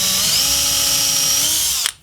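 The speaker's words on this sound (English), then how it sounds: "I'm gonna start by drilling a hole down roughly the center of this." A power drill bores a hole into a block of high density urethane foam, a steady loud whirring drone with a shifting pitch that runs continuously for about two seconds before cutting off abruptly.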